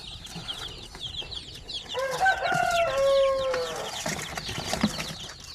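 Chicks peep near a home incubator while a rooster crows once, loud and close, a drawn-out cock-a-doodle-doo in the middle, with scattered clucks and cheeping around it.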